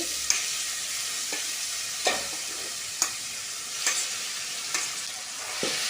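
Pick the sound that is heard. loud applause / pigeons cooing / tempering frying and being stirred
tempering frying and being stirred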